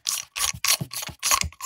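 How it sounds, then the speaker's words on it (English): Short bursts of clicking, ratcheting threads come close up as the hood and lock nut are unscrewed from a 3K carbon fiber CNC-machined fishing reel seat. There are about six quick turns with brief pauses between them. "once I get this hood off and this lock nut."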